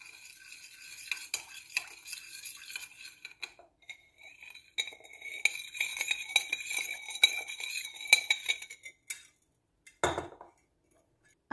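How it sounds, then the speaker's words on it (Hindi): A spoon stirs and scrapes through chicken bread dough ingredients in a bowl, giving a steady run of close clinks and scraping for several seconds, then a sharper knock near the end. "इसको अच्छे से मिक्स कर लेंगे।"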